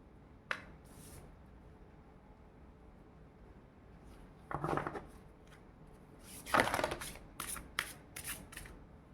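Tarot cards shuffled and drawn by hand: quiet papery riffles and slaps in several bursts, a brief flick near the start, a fuller shuffle midway and a cluster of crisp card snaps toward the end, with no talk.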